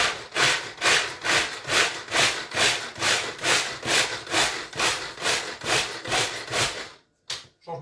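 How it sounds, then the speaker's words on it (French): A Tupperware hand-pull mixer blends frozen raspberries, giving a rapid series of rhythmic whirring, rasping pulses about two per second, each rising and falling, continuing for seven seconds before stopping with a brief knock. "donc on a mixé nos framboises"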